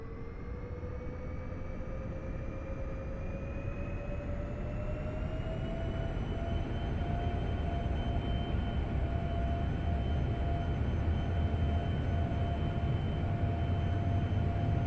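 Twin jet engines of a Hawker 4000 spooling up for takeoff in X-Plane 11, a broad steady roar with rising whining tones that climb gradually and hold, loud and continuous with no talk.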